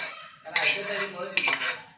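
Metal utensil scraping and clinking against a wok in two short bursts, close by, as fried tomato is scooped out into a dish.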